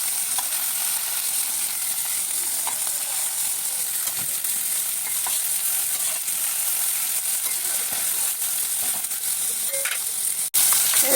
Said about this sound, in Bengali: আমার মাছগুলো আমি হালকা করে ভেজে নিচ্ছি